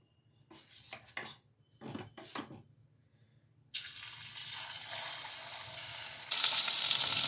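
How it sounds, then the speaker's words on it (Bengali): Prawns go one by one into hot white oil and burst into a loud, steady sizzle that grows stronger partway through. Before that come a few sharp clinks of a spoon and utensils in near silence. "সাদা তেল দিলাম তেলটা গরম হয়ে গেছে এবার আমি চামচে করে করে একটা একটা করে চিংড়ি মাছ দেব"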